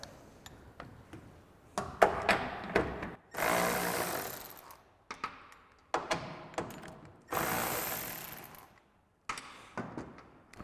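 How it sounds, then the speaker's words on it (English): Ratcheting with an 8mm socket to back out the two side screws holding a factory taillight on a 2021-2023 Ford F-150: bursts of rapid mechanical clicking alternate with pauses, close and fairly loud, no talking. "we'll grab an 8mm socket to pop those out"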